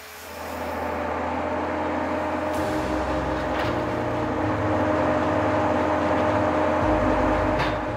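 A brand-new John Deere 1210G forwarder works on sloping forest ground, its engine giving a steady, loud drone that shifts pitch as the machine revs and moves, with a few brief hissing bursts.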